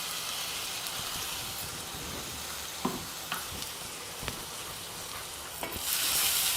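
Ground mint, green chilli and garlic paste sauté in a pan, giving a steady close sizzle with faint occasional clicks of stirring throughout, and no talking.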